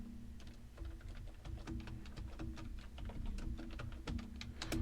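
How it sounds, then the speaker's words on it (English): Rapid, uneven clicking of keys on a computer keyboard, pecked out at a steady pace with a low hum in the background. "Sorry, my typing skills ain't up to par. I still hunt and peck."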